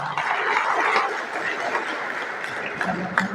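An audience claps steadily at a town hall meeting in Bharatpur, India. The dense, sustained applause fills the space evenly and carries no break for its whole length.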